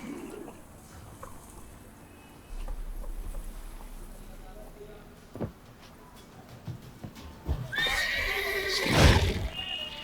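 Roach the horse in The Witcher 3 lets out a sharp neigh near the end, after quiet ambient game sounds, faint bird coos and soft hoof clops, with a voice speaking briefly.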